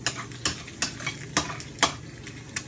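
Egg frying in a pan for Lao stir-fried cucumber with egg gives a steady sizzle punctuated by about seven rhythmic scraping strokes of a utensil against the pan, close and clear without speech.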